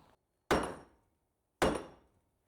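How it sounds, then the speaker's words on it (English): Two sharp taps of a plastic hammer on a metal rear brake spindle, spaced about a second apart, each ringing briefly before fading to silence. "Extract spindle inwardly by tapping it from the outside with a plastic hammer"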